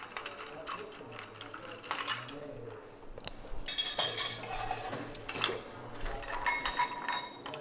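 Cocktail stirred with ice in a mixing glass, giving light clinking and rattling in uneven bursts, fairly close and quiet, with a louder flurry of clinks midway.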